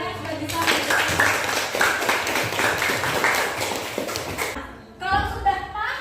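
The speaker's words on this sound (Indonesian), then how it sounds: "Berikan tepuk tangan untuk Dela bagi kami." A class of students claps together in a classroom, a dense burst of applause that fades out, followed by a voice speaking.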